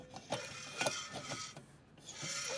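Gas tube fitting being screwed onto a CO2 canister for keg carbonation, a few close, faint metallic ratcheting clicks and scrapes in short uneven bursts.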